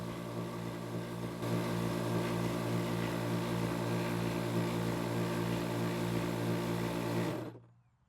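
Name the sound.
Outdoor Master Shark 3 electric pump inflating paddle board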